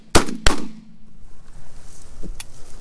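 Two loud, sharp shotgun blasts from duck hunters firing at mallards over a field ring out in quick succession, followed after a pause by a fainter distant shot.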